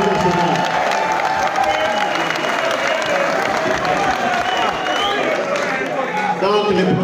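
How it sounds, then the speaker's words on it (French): A political party assembly applauds after a programme is adopted, sustained clapping mixed with crowd murmur and some cheering, with voices talking underneath throughout. "Il est adopté et nous pouvons applaudir le Parti national."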